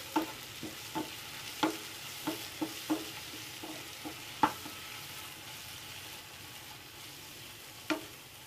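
Spice masala with Kashmiri chilli fries in oil in a pan over a medium flame, a low sizzle with a spoon tapping and scraping in irregular strokes, no voices.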